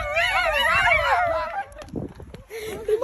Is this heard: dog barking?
yes